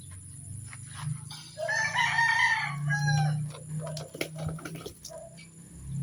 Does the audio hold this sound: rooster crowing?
yes